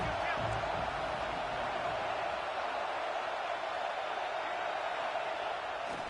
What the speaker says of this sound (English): This crowd, full throat, spinning the eardrums and letting them know it's going to be a long day.